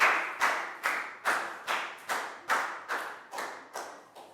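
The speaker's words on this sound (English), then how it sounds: "Big round of applause for Lakgao" A Year 4 class claps for a student during a health lesson: about eleven steady, evenly spaced claps in unison, close and fairly loud, with no talking.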